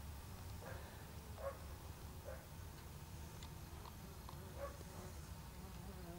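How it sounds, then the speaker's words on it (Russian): Faint buzzing of bees drifting past in short bursts over a quiet outdoor garden background in October. "пчелки тут до сих пор летают"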